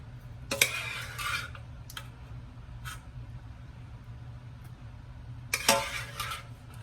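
A slotted metal spoon scrapes and clinks against a pot while scooping peaches and draining their juice, with a few sharp clatters and softer scraping between them, close and alone.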